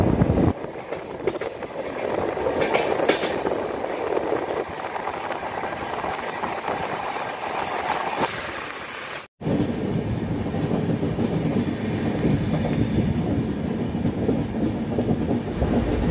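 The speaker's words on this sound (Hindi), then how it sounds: "हमारी ट्रेन उड़ती हुई खूबसूरत नज़ारों के साथ" Gorakhpur Secunderabad Express passenger train running on rails, a continuous loud rumble with rhythmic wheel clatter throughout, briefly dipping once before resuming.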